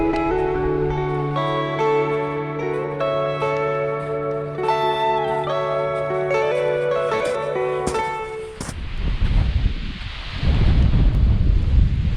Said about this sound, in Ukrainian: чуть не збило з ніг мене поривом вітру